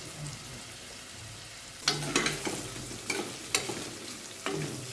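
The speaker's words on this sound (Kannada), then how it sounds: "ಸ್ವಲ್ಪ ಫ್ರೈ ಮಾಡಿ ಈರುಳ್ಳಿನ." Two chopped onions frying in oil in a pan for a simple vegetable pulao, giving a steady close sizzle broken by several sharp scraping bursts from stirring, with no talking.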